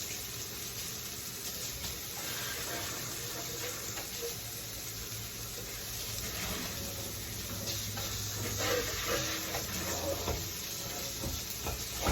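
Meatballs fry in a pan with a continuous, quiet hissing sizzle and occasional crackles that hold steady for about twelve seconds, with no voices present.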